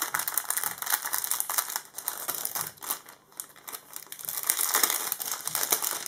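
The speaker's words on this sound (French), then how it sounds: "j'aurais dû les enlever du sachet parce que ça fait un peu de bruit" Thin plastic sachet crinkling and rustling as scrapbooking supplies for flower cards are handled, a close, continuous papery crackle with brief pauses and no talking.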